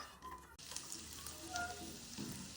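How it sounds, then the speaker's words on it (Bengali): Chopped garlic frying in ghee gives a steady close sizzle that jumps louder after a brief quieter start, with a few light stirring scrapes. "ঘির মধ্যে দিয়ে দিচ্ছি একটু রসুন কুচি।"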